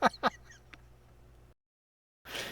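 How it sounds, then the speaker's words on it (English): Geese honk loudly and close, giving two sharp honks followed by fainter calls, then a short silence before another harsh burst of honking. "Oh, fucking birds."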